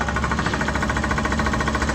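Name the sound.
machine hammering through rock while digging a pond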